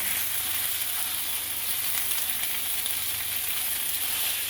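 Pork adobo with potatoes frying in a pan, a dense, even sizzle that runs steadily throughout with no voices.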